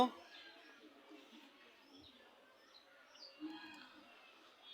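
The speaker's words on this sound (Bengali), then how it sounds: "আমাদের শালিক পাখি মিঠু অনেক বড় হয়ে গেছে অনেক বড়" A pet common myna calls faintly indoors, giving a few short, scattered chirps and squawks at low volume over a quiet room background.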